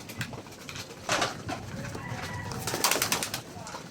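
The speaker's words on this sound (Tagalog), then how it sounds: "Ay mga ibon natin na" Pigeons kept by a fancier coo softly in a loft after heavy rains, with short bursts of activity and some wing movement at close range against a light background hiss.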